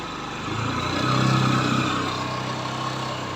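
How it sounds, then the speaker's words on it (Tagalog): Motorcycle engine held near 4,000 RPM on a half clutch while pushing through flood water, a steady loud mid-pitched drone that swells slightly in the middle and carries on without speech. "kaya ganyan na ugong ng makina pero pirasado yan"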